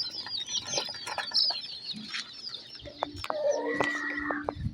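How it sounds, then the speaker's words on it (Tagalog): Chicks and chickens clucking close by, busy overlapping clucks and high peeping chirps with a few longer calls, no talk. "Kunin natin mga sisiw natin."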